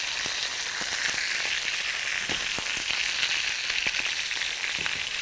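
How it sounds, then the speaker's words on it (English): Pork chops searing in a hot pan, a steady close sizzle with scattered pops and crackles throughout, no talking. "Now we want a good sear on this."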